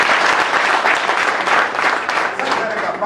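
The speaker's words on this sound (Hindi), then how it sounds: "जोरदार तालियां बजाओ सबको" At a sales seminar, a crowd of attendees, among them diabetes patients, breaks into loud, dense clapping. It is close and sustained and holds at a fairly even level for about three seconds.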